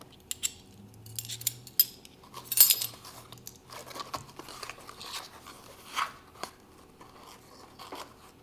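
Baking soda being scooped into a 3/4 teaspoon measure and leveled off: soft, close scraping and small crunchy ticks in a quiet kitchen, with a few sharper clicks of the spoon and no talking.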